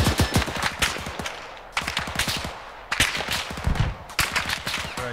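Rapid automatic gunfire rattles in four separate bursts, each a tight string of sharp, loud close-range shots with brief pauses between them.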